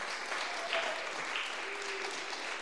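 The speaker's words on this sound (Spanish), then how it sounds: "Dale un aplauso al Señor" A church congregation applauds during a Spanish-language service, a steady wash of clapping from many hands at moderate distance, fairly soft and continuous.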